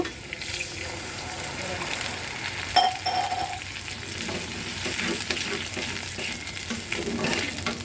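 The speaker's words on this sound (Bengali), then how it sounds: "এখন এর মধ্যে আমি একটু পানি দিয়ে দিব" Ground ginger, garlic and cumin paste with salt and roasted cumin powder sizzles in a pan after a splash of water is added, a steady close crackle with a faint clink and a brief chime partway through.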